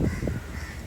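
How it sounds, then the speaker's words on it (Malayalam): A single crow caws once, close and harsh, over a low rumbling background. "കാക്ക"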